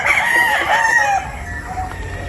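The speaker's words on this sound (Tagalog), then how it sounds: "titingnan po natin yung ating mga alagang pulit" Boston roundhead chickens crowing, with one loud, close, drawn-out crow followed by quieter clucking and farmyard background noise.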